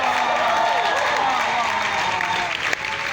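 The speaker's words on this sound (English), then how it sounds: "Let's give them a big round of applause." An audience claps and cheers at a talk, a steady wash of applause that carries through the whole moment with crowd noise mixed in.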